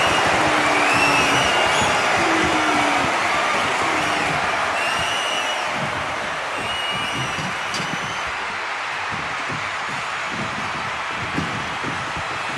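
Arena crowd in WWE 2K25 roars in a dense, continuous wash of cheering and noise, loud at first then settling slightly, with faint whistles and tones over the top.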